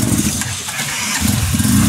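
A motorcycle at the Dayang factory in China starts up and runs with a loud, close, steady engine roar marked by slight pulsing throughout, with no talking.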